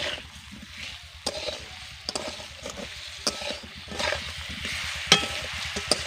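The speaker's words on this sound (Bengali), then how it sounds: "এবার ভালো করে মিশিয়ে নেব।" A raw mango and fish roe chutney with added sugar is stirred in a hot pan, a steady close sizzle broken by occasional scrapes and knocks of the spoon.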